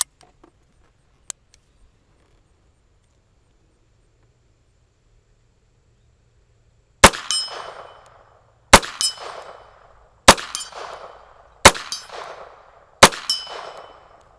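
Five sharp pistol shots from a Smith & Wesson Model 41 firing CCI ammunition, each followed by a bright ringing clang off an 8-inch steel target at 50 yards, evenly spaced after a long quiet stretch with a couple of faint clicks.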